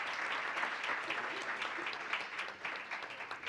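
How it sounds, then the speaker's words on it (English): An audience at an innovation competition applauds the finalists, a continuous even patter of many hands clapping in a hall, moderately loud and unbroken throughout. "Please give another round of applause for all of the finalists"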